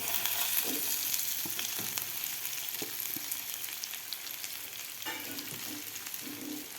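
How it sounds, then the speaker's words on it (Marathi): Cut potatoes fry and get tossed through a spice masala for jeera aloo, a steady close sizzle with soft stirring scrapes and occasional spoon taps, no voices. "आता आपल्याला व्यवस्थित हे एक मिनिटभर हे खालच्या मसाल्यामध्ये फ्राय करून घ्यायचे आहेत हे बटाटे"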